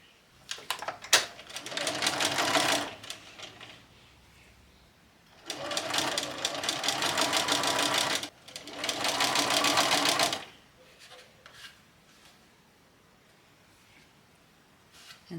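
A sewing machine runs in three bursts as it stitches a seam through a lace and appliqued wedding dress with tulle layers, each burst lasting a couple of seconds with quiet pauses between.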